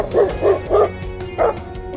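A dog barks four times in quick, close, loud woofs, with the first three evenly spaced and a short pause before the last.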